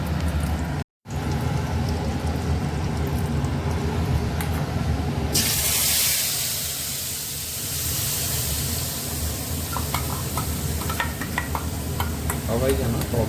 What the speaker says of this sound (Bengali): এই তেলটার উপর আমরা দইয়ের অংশটাকে ঢেলে দেবো।